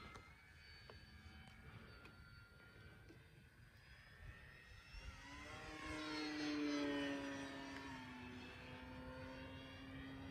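A Big Horn model airplane flies overhead, its propeller engine a steady distant drone that grows louder and rises then falls in pitch as it passes close, with no talking.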